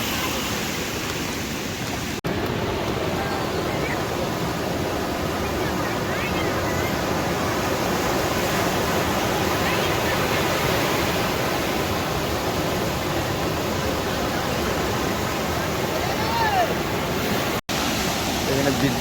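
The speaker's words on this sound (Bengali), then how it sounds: "ওইদিকে দেখ কত বড় বড় ঢেউ উঠছে ডান দিকে" Big sea waves break on Digha beach in the rainy season, a steady broadband roar of surf and wind that holds near-constant loudness throughout, with no clear pauses between breakers.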